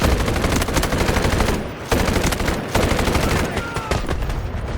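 Gunfire in the video game Delta Force: loud, close bursts of rapid automatic fire rattling on almost without pause, with one short lull partway through before the shooting resumes.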